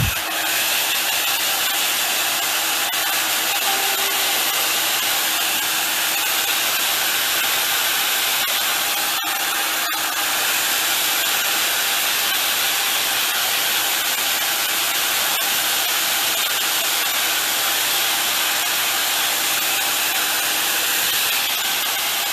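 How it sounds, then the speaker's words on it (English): A hair dryer blows steadily and loudly over freshly painted books, a continuous airy roar that holds for over twenty seconds with only a brief dip midway. "I'm gonna hit those with the hair dryer a minute so I can write on it."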